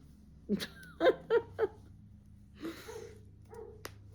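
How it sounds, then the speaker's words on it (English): A dog gives a few short, close barks in quick succession, followed by a brief pause and a softer yelp. "why is he barking like that?"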